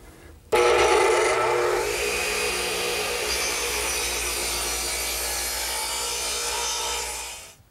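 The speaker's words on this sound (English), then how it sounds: "My radial arm saw has been turned to 18 degrees, and we'll start to cut those segments" A radial arm saw angled at 18 degrees bites into 2x8 redwood, its motor spinning up sharply and holding a loud, steady whine through the cut before winding down near the end.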